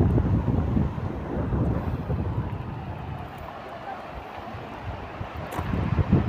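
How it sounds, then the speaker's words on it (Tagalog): Seeb beach in Muscat, Oman, with gentle sea waves washing in under strong gusting wind buffeting the microphone, a continuous close roar that eases midway and builds again. "Hindi naman siya malakas yung alon ng dagat siya"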